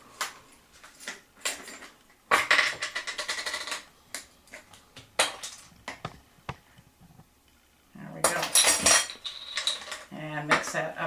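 A utensil scrapes and clinks against a bowl while stirring spiced peanut sauce seasoned with cumin and cayenne, in repeated close bursts of clatter with short pauses between.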